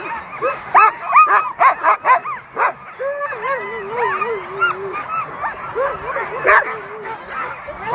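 A pack of sled dogs at the Knik 100 race in Alaska bark, yip and whine excitedly all at once, close and loud, a dense overlapping chorus with rapid yaps giving way to high whimpering howls.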